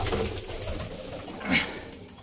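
Pigeons kept in pairs and bloodline stock coo close by in a soft, continuous murmur, with a brief louder call near the end and no talking.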